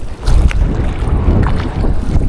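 Wind buffets a fishing boat at sea, a loud, rough, continuous rumble of gusts battering the microphone with no voices.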